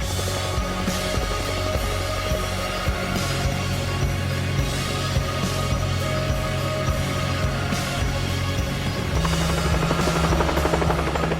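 A helicopter drones steadily throughout, its rotor chop and engine whine loud and close, with no talking over it.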